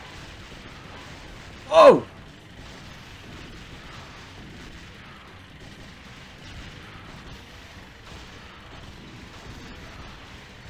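A single sharp explosion blast from the arcade run-and-gun game Metal Slug, brief and loud over a steady bed of game music and effects, with a man exclaiming over it.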